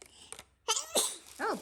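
A quick pair of close, sharp sneezes in a home during a bead bracelet craft session, followed by a brief voiced sound, with quiet pauses between the bursts.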